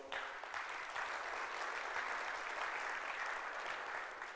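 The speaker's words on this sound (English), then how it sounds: "I really want you to applaud him for this" Conference audience at Startup Turkey 2015 applauding a donor, an even wash of many hands clapping throughout, moderately distant and without talk.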